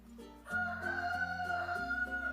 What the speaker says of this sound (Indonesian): backsoundnya suara ayam, nggak apa-apa.